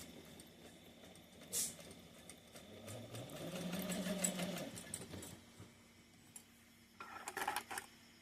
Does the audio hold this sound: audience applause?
no